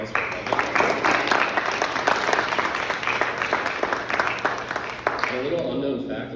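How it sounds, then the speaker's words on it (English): Applause for a speaker at a Toastmasters meeting: a roomful of hands clapping steadily and briskly for several seconds, close and full, before tapering off at the end. "So another round of applause for Evan."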